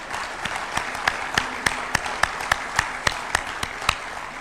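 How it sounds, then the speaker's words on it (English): Steady applause from an audience during a presidential speech, with sharp individual claps standing out at a regular rhythm over a softer bed of clapping for a few seconds. "Let us clap for this man."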